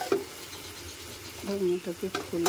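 A spoon scrapes and stirs through a cabbage and prawn curry in a pan, a few short scraping strokes against the pan with a faint sizzle underneath, close and moderately quiet.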